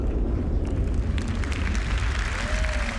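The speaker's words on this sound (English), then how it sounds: "And the explosion itself." Spaceship explosion in the Star Citizen space game: a loud, sustained rumbling blast with crackling debris and a rising whine near the end, filling the clip without any talk.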